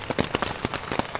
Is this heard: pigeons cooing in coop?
no